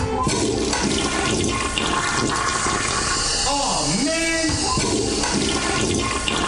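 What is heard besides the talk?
toilet flushing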